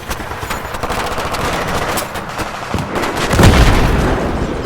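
Dense gunfire from a Battlefield 3 ambush: sustained machine-gun bursts and shots crack continuously at close range, with a heavier boom near the end swelling the roar.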